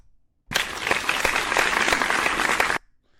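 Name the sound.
round of applause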